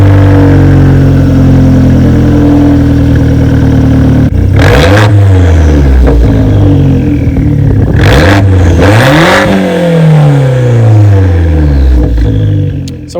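A Fiat 500 Abarth with an axle-back exhaust idles loudly, then is revved sharply twice in quick succession, each blip rising to a raspy snarl before falling back to a low, close idle.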